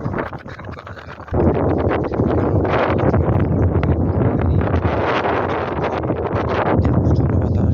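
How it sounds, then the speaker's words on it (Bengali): Strong outdoor wind buffets the microphone in a loud, continuous roar that surges after the first second and stays heavy throughout. "প্রচন্ড বাতাস"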